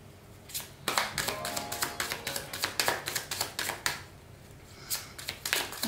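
A tarot card deck being cut and handled, giving a rapid series of crisp card taps and flicks, close and fairly loud, in quick uneven bursts with no voices.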